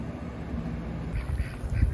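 Ducks quacking on a farm with turkeys and guineas, a few faint low quacks in quick succession at a distance.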